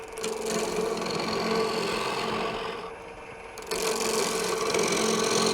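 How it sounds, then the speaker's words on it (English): A half-inch bowl gouge hollows the center of a wooden bowl spinning on a lathe, producing a steady, loud scraping rasp that eases off briefly near the end before biting back in at full strength. "I'm going to use a 1/2-inch bowl gouge."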